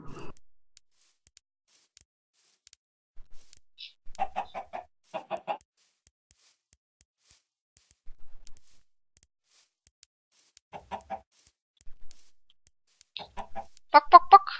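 Minecraft chickens cluck in short, scattered bursts from nearby, with quiet gaps between groups of blocky game clucks and no voices over them.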